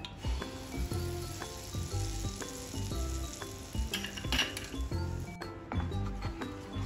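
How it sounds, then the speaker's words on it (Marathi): Chocolate modak mixture is stirred in ghee in a pan over low heat, with soft sizzling under repeated scraping and clinking of a spoon against the pan in a steady rhythm. "हे आता सारखं ढवळून घ्यायचं मंद आचेवरती"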